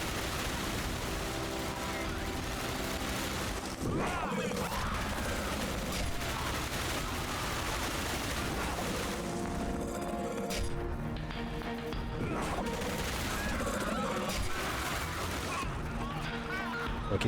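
Blind-fire gunshots in the PS3 shooter Dark Sector come as dense, continuous bursts of gunfire and mechanical clatter through the whole stretch, with speech mixed in throughout.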